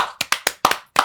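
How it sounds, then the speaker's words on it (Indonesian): An audience claps for a guest at an Indonesian talk event: about five sharp, separate hand claps in an uneven rhythm, close and fairly loud, with short silences between them. "Tepuk tangan dulu ke Pak Todi."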